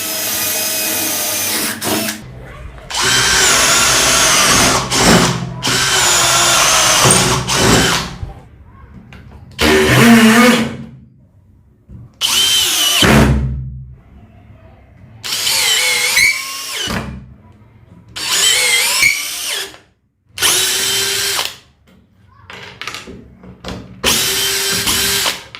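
A brushless cordless drill set to second gear drills in repeated bursts of a few seconds each, whirring loudly at speed and separated by brief pauses, with someone talking between some bursts.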